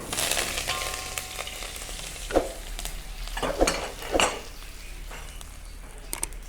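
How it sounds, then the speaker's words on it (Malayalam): Curry leaves drop into hot oil where mustard seeds have already popped, for a tomato pickle, giving a steady sizzle with a few sharper crackling bursts and faint utensil clinks. "ഞാൻ അതിലേക്ക് കരിവേപ്പിൻ്റെ ഇല ഇട്ട് കൊടുക്കാം."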